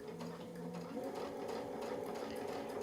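A sewing machine stitches a brick-pattern mini fill on a quilt guided by a Westalee template, its steady fast motor whir and needle chatter running continuously and close, quiet overall.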